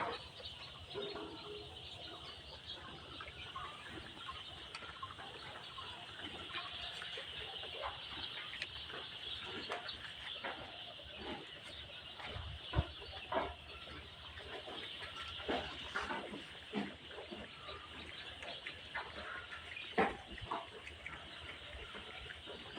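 A poultry shed holding about 4,000 fifteen-day-old layer chicks, filled with soft, constant peeping and chirping from the flock, with occasional louder cheeps standing out over a low background hum.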